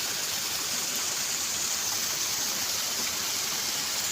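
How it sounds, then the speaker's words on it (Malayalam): Continuous broadband rushing of a waterfall, steady and fairly loud throughout, with no voices present. "വെള്ളച്ചാട്ടം."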